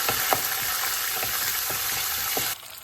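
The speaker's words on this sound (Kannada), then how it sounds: "ಒಂದು ಸ್ವಲ್ಪ ಇದು ಕೆಂಪು ಬಣ್ಣ ಬರೋವರೆಗೂ ಹುರಿಯೋಣ." Cumin seeds and green chillies frying in a hot pan, a steady close sizzle with soft periodic stirring scrapes, cutting off abruptly near the end.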